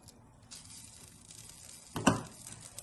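Kebab grilling over charcoal sizzles with a soft, steady crackle at close range, then a sharper, louder burst of hiss swells near the end, likely as oil hits the hot coals.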